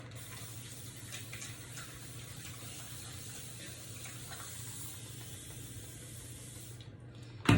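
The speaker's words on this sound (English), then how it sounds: "But I take my mister and I mist the hair to wet it." A handheld spray mister wets crochet-braided go-go curl hair with water, giving a close, continuous fine hiss with faint pulses that stops abruptly, followed by a brief knock.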